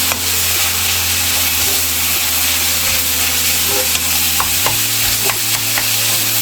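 Kimchi fried rice is stirred in a hot pan, with a steady loud sizzle and scraping strokes of the spatula running without pause.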